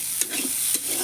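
Lentils fry in a pan with a steady close sizzle, broken by a couple of sharp stirring scrapes of a spatula, with no voices.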